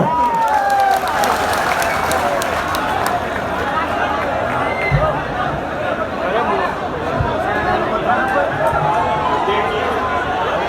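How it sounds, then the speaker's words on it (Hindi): An audience claps steadily in sustained applause with some crowd chatter mixed in, welcoming a comedian onto the stage at a live comedy show in Nangal. "राष्ट्र कवि सुरेश जी अलबेला का ताली बजा के स्वागत करो।"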